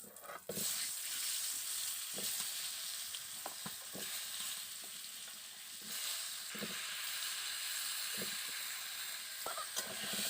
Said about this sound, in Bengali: তেলটা গরম হয়ে গেছে এবার দিয়ে দিচ্ছি আলু